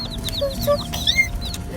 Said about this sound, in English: We just picked up our chicks.